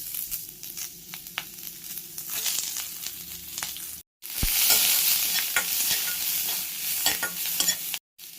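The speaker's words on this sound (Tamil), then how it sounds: "அதே கடாயில் கொஞ்சமாக ஆயில் விட்டு சீரகம், கருவேப்பிலை, சிகப்பு மிளகாய், வெங்காயம்," Cumin, curry leaves, red chillies and onion fry in a little oil in a pan, a close continuous sizzle with stirring scrapes, broken by two brief silent gaps.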